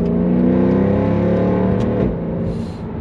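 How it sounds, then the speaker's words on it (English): A Mercedes W204 C63 AMG accelerates hard past a lorry, its V8 drone loud and rising steadily through the revs before easing off near the end, with no talking. "But once this car gets going, that initial pull, it just keeps on pulling and pulling and it does not stop until up the red line."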